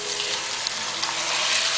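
Ground beef sautéing in a pan for pancit palabok gives a steady, dense sizzle and crackle, close and loud, with no pauses or voices.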